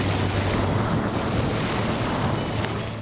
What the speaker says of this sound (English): With our sail set, the wind's, as you can see, coming fair from behind us, so not terribly fast.